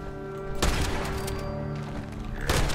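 Shotgun blasts in Fallout 76, two loud broadband bursts roughly two seconds apart over a steady game soundtrack with sustained tones.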